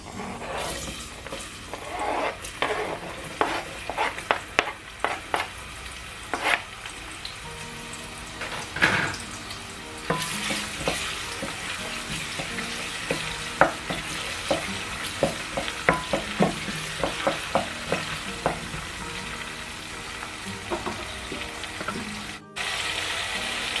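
Chopped onion sizzles and fries in a pan while a utensil stirs and scrapes it in repeated clicks and taps, close and steady, with no talking over the cooking.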